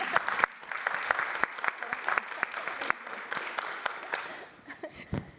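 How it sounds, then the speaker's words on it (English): Audience at a summit livestream claps in a moderate, fairly sparse round of applause with distinct individual claps, thinning out and fading near the end. "I think that deserves a round of applause."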